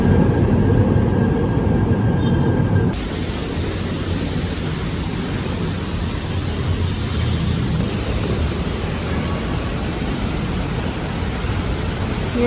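Steady broadband rumble of an MRT train at a Manila rail station, loud and continuous with a shift in tone partway through, no talking.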